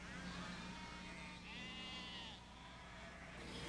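Sheep bleat faintly in the hills over a steady wash of outdoor background noise, a few drawn-out calls sounding at a distance.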